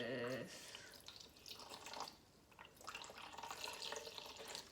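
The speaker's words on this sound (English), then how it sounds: "Gonna add some water" Water poured into a blender for a homemade smoothie, a soft splashing trickle heard in close, quiet bursts.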